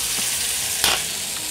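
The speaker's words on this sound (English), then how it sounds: "We're going to take our gnocchi right off the surface, throw it right into the pan." Butternut squash gnocchi sizzle loudly in a pan of butter, a steady close frying hiss with a brief louder crackle as pieces are stirred.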